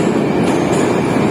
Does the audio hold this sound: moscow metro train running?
yes